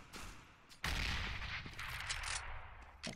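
Pistol shots from a USP in a Counter-Strike pro match on the Cache map: sharp bursts of game gunfire against a dense, loud background of in-game noise, with a sudden jump in volume near the start.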